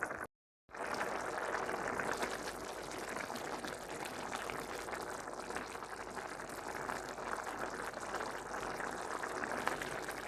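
Uzbek plov simmering in a pot, a soft, steady bubbling hiss that runs unbroken after a brief silent gap at the start, faint and close.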